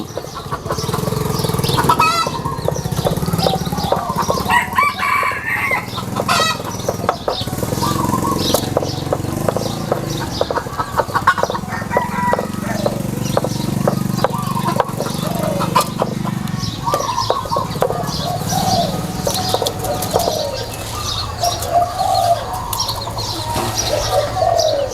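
Wild junglefowl at an event in Sisaket, Thailand, give busy clucks and calls with bursts of wing flapping, close and loud over a continuous background hum.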